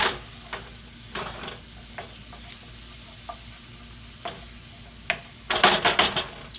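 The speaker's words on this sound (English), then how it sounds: "Move this garlic around. Let it cook up here about a minute here." Garlic sautés in a pan for shrimp scampi, with a low steady sizzle broken by sharp scraping stirs every second or so and a flurry of clattering stirs near the end.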